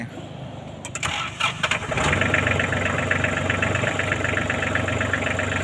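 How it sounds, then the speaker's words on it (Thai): Used Japanese tractor with a 3-cylinder 35 hp engine cranking with a few sputters, then catching and settling into a steady, loud, close idle. "เครื่องยนต์3สูบนะครับ 35 แรงตัวนี้ ตู้แอร์นะครับเอาสตาร์ทเลย"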